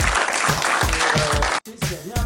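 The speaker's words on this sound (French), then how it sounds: "Merci d'accueillir et d'applaudir très fort Monsieur Frank Ropers." Steady, dense applause from an audience welcoming an instructor at a self-defense seminar, loud and continuous with a brief break near the end before clapping resumes.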